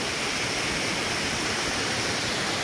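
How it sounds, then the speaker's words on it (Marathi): A hidden waterfall near Khopoli roars in a loud, dense, unbroken wash of falling water heard up close, with no voices. "काय जबरदस्त धबधबा आहे."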